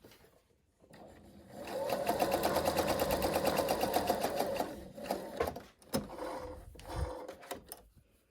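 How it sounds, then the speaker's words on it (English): Sewing machine stitching an interfaced cuff outward to the edge, a steady fast whirring run of needle strokes for several seconds, then short stop-start bursts and clicks close by. "and stitch outwards to the edge."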